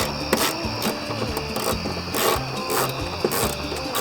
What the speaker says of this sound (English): Use a 10mm socket and ratchet.